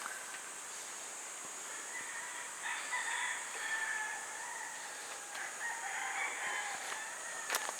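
Chickens at a rural coop, with a rooster crowing in short bursts at mid distance over steady insect-like hiss; no talk.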